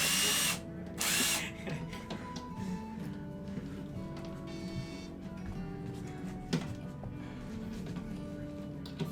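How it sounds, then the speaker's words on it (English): Two short, loud bursts of a power drill whirring while building a TV stand, then quieter mechanical hum and scattered clicks and taps. "Drill's right here."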